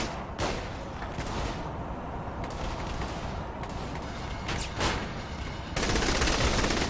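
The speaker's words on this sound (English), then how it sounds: "Fortunately, we've got a assault rifle." Assault rifle fire crackles in the Saints Row The Third video game, a dense continuous stream of rapid shots with short breaks, growing louder and harsher near the end.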